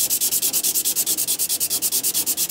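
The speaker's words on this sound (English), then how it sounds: "Now I come along with a piece of 100 grit sandpaper," Rhythmic back-and-forth strokes of 100 grit sandpaper rubbing excess glue off a Jaguar E-Type bonnet, about twenty even, loud passes in steady succession with no talking.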